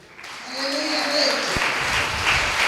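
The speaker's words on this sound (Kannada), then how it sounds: "ಚಪ್ಪಾಳೆ ಬರಲಿ," Congregation applause at a Friday church prayer service, a broad, steady wash of many hands clapping that swells within the first half second and holds at full level, with a voice sounding over it at the start.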